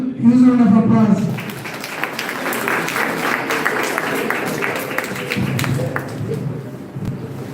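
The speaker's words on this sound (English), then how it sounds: "Give a huge round of applause." An academic audience applauds a guest lecturer at a corporate governance talk, a sustained patter of clapping after a short spoken line at the start.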